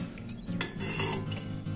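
A small lid gets set onto a pot over a camping gas stove, giving a few light metallic clinks and a brief rattle over a low, steady background hum.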